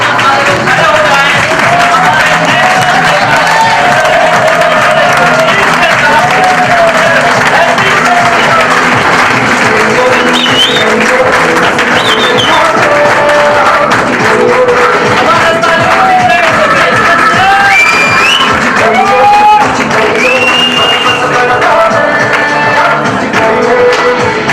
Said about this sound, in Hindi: तो एक जोरदार तालियों के साथ मैं चाहूंगा सारे लोग खड़े हो जाएं